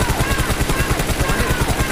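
In PUBG Mobile on the Miramar map, rapid automatic gunfire sprays in a fast, steady burst of evenly spaced shots, loud and up close for the whole short stretch.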